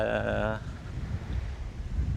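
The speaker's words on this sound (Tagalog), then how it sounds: "Tapos ang lakas ng hangin, preskong presko." Strong wind buffets the microphone on Bantayan Island, Cebu, in a steady low rumble, with a brief tonal hum at the very start.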